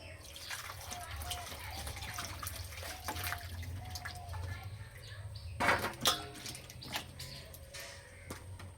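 An ash gourd is rinsed under running water: a gentle steady trickle with drips, rising to a short burst of splashing near the end as the gourd is handled.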